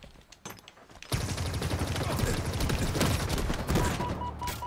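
Sustained rapid gunfire in the online shooter Halo Infinite, a dense loud fusillade starting about a second in and continuing to the end.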